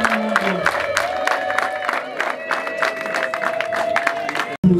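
Guests applauding at a Rwandan gufata irembo family ceremony, clapping in an even, rhythmic beat under a sustained tonal hum, with crowd noise throughout and an abrupt cut near the end.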